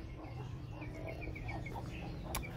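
A young rooster about five months old clucks in short repeated calls over a constant low background hum, fairly faint and close.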